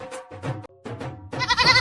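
Several bleats from a goat for sale at a livestock trading spot, coming in short wavering bursts separated by brief gaps, with the last cry the longest and loudest, fairly close by.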